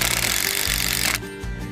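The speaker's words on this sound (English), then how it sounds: "Keep the drill straight." A power drill bores a tap hole into a maple tree during maple sugar season in Canada, its steady motor whine loud and close with rhythmic pulsing, then dropping in pitch near the end.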